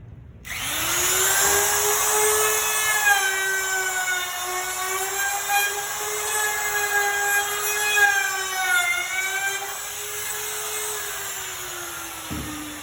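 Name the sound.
wood router cutting edge of board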